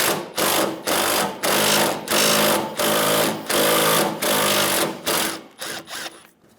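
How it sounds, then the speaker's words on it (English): A 10mm socket removes a bolt from a 2007-2011 Toyota Camry front bumper. A power tool buzzes in short loud bursts with brief gaps, and the bursts get shorter and more broken toward the end. "remove the bolt in the middle of the bumper."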